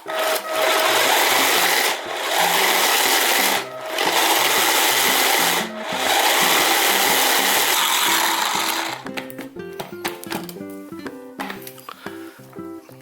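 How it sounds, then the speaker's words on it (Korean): Small electric food chopper whirring loudly as it grinds shepherd's purse and other spring herbs, several sustained bursts separated by short pauses, then stopping into quieter rattling and tapping of the bowl. "저처럼 이렇게 작은 커터기가 있으면 커터기를 사용하셔서 갈아주셔도 돼요"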